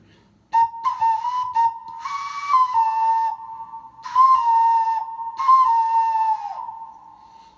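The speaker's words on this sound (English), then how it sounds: "This is a flute because have more than one hole and sounds like this" A multi-holed clay flute plays a sequence of bright, piercing notes with quick pitch changes and a few brief breaks, up close and solo.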